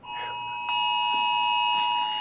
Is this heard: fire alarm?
yes